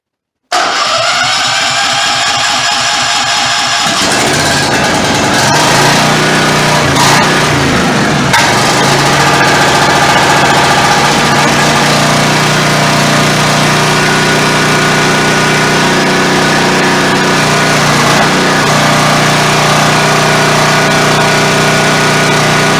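A small engine sputters to life after its choke is set, then settles into a steady, loud idle with a constant low drone and rattle lasting throughout.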